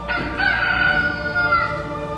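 A rooster crows once in a single drawn-out cock-a-doodle-doo, loud and close, with no other sound alongside it.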